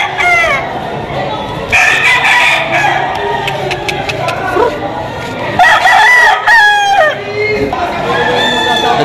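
Lemon Sweater gamecock roosters crow repeatedly at a live auction market in Padre Garcia, Batangas, several loud close calls overlapping with clucking and a murmuring crowd in the background.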